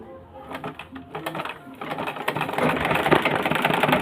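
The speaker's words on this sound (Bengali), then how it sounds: "আপনাদের আমি একটু সেলাই করে দেখাই," A domestic sewing machine stitches cloth in a rapid mechanical patter that builds from lighter bursts into steady, louder running, close by with no talk over it.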